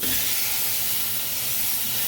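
Steady broadband sizzling hiss of a rib roast searing, loud and continuous with no pauses, close by and alone without any talking.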